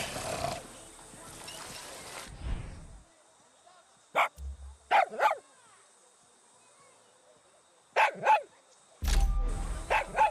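Dog barking in the video game Far Cry 6: several short, sharp bark bursts in pairs at a mid distance, following a stretch of game ambience and separated by quiet gaps, with louder noise at the start and end.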